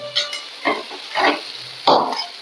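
Whole spices dry-roasting in a large wok, stirred in three or four bursts of scraping and rattling with brief sizzles between them, close and fairly loud with no talk.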